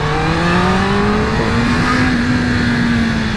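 Honda CB650R motorcycle engine revving steadily, a loud, close, sustained roar whose pitch climbs gradually across a few seconds, with no voices over it.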